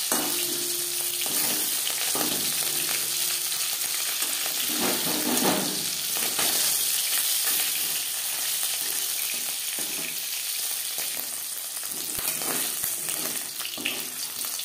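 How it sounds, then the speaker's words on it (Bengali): Small fish frying in hot oil in a pan: a steady, close sizzle that continues throughout, with occasional stirring and scraping sounds and no talking. "মাছ ভাজা হয়ে গেছে।"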